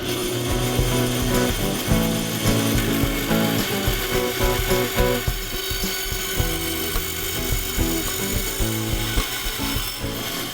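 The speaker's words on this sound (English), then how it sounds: "And now I'll cut the taper using the bandsaw." Bandsaw cutting a taper along a wooden board for a lumber rack, a continuous loud buzzing hum with a rasping, ratchety texture under the motor tone throughout.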